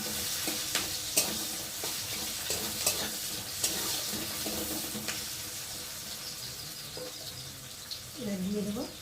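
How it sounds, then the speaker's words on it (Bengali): Onions hit hot oil in a pan for a fish curry, giving a close, steady sizzle with scattered stirring clicks and scrapes, and a brief water-like gurgle near the end. "তেলটা দিয়ে দিয়েছি আর এখন আমি দিয়ে দেবো পেঁয়াজ।"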